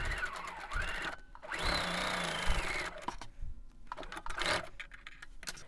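A sewing machine stitches pieces of a table runner in short bursts, its motor whirring up and down in brief runs separated by pauses with small clicks and handling noises.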